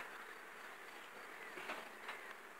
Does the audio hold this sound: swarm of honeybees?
yes